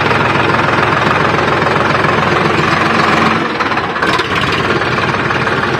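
A tractor engine runs loud and close while its hydraulic tipping trolley unloads soil for field levelling, chugging steadily with a short dip in the rumble near the end.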